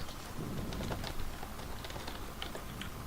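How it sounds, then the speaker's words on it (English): Keys on a computer keyboard clatter in quick, uneven bursts at moderate distance, mixed into a busy room background with some low rumble. "Garrett's typing"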